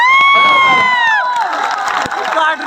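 Crowd at a dairy cricket tournament final in Dausa cheering loudly, with high sustained shouts and whoops from many voices at the start, then a dense roar of cheering and clapping that carries on steadily to the end.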